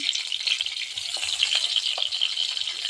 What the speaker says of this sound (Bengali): এখন এই তেলের মধ্যে মরিচ দিয়ে দেবো